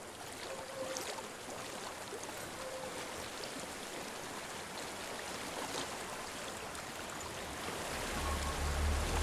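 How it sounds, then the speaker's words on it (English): A waterfall in the video game Hellblade: Senua's Sacrifice, heard as a steady, faint rushing wash of water that swells slightly toward the end. "There's a waterfall."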